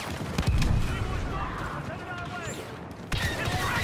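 Gunfire from the Star Wars Battlefront 2 video game rattles in dense bursts behind constant battle noise, with a voice speaking over the fighting.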